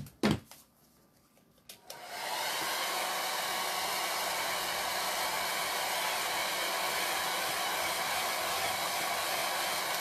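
An electric hair dryer blowing to dry chalk paste on a pumpkin cutout, switched on after a few soft handling knocks and then running as a loud, steady whoosh to the end.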